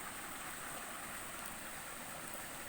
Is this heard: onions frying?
no